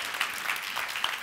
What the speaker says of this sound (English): Please give me some